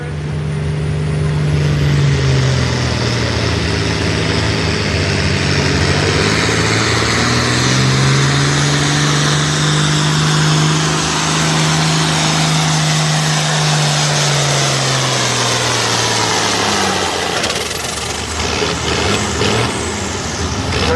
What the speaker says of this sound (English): let's see Wayne Balderson and the Little Tractor